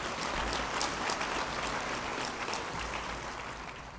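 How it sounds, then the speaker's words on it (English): An audience at a Women of Influence event breaks into applause, a dense, steady crackle of many clapping hands filling the room and tapering slightly at the close. "Round of applause for that."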